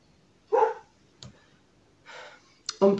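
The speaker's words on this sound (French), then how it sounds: "Oh, il est chiant à aboyer!" A dog barks indoors in short separate bursts, a couple of sharp barks and a yip spread over a few seconds, fairly close, with faint clicks between them.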